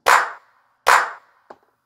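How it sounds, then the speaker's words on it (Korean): Hand clap sample played from a pad on a Casio MZ-X500 keyboard: two crisp, bright claps a little under a second apart, then a faint short tick, heard dry and close with no voices. "박수."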